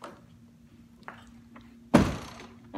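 Someone banging on a door at home: a few faint knocks followed by one loud, sharp thud, close by with a quiet hum underneath.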